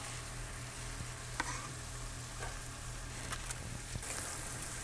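Chopped onion and garlic cook in a pan for a chicken pot pie filling, giving a quiet, even frying hiss with a few faint clicks and stirs, and no one speaking.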